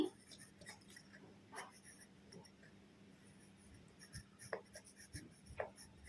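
Pencil scratching across paper while sentences are written out for a Class 3 Bangla lesson, faint irregular strokes and taps up close in a quiet room.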